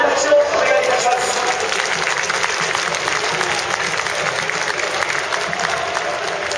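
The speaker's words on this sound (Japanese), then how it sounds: "今一度、大きな拍手をお願いいたします。" Steady, dense audience applause at an award ceremony for a professional football club, many hands clapping continuously at an even level throughout.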